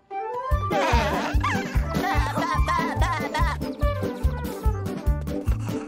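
A cartoon sheep bleats in a rapid, steady run of wavering calls, loud and close, over a rhythmic musical beat in a children's counting show.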